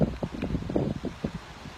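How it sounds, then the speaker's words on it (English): Wind gusts blow outdoors during ice fishing, a low, rough rumble buffeting the microphone with uneven pulses throughout the short stretch. "Whew. Windy."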